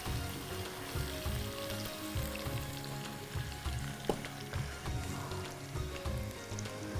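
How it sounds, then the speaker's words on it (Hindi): Lamb karahi meat sizzling and frying in a pan, a steady soft crackle with occasional stirring sounds, no one talking. "हम हल्का सा भी और फ्राई करेंगे।"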